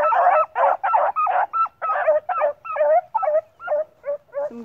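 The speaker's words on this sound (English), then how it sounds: "Some good dogs right there." A pack of hunting dogs, one an eight-month-old pup, bays and yelps in rapid, overlapping bursts while trailing a rabbit, fairly close and loud.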